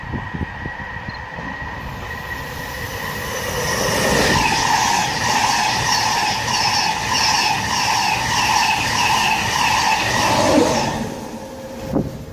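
A VTEC passenger train on the London King's Cross service runs through Peterborough station, a steady loud rumble and rail hiss that swells midway and holds before fading near the end.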